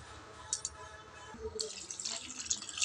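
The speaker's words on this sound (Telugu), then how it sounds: "గట్టిగా అయింది, కొద్దిగా వాటర్ వేసుకుందాం." Water from a tea glass poured into a curry pot in a home kitchen, a faint splash and trickle of liquid that swells in the second half, close and quiet with no speech.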